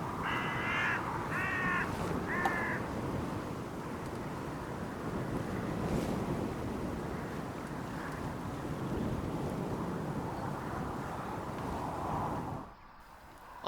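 A crow caws three times early on, fairly distant, over steady wind noise and a low rumble outdoors.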